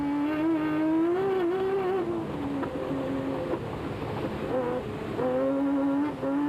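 A V6-powered Team Ford Racing Ranger rally truck competes at the 2003 Sugarbelt 400, its engine loud and close, revving and pitching up and down steadily with no one talking.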